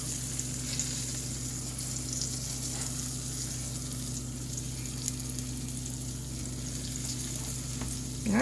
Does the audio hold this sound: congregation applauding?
no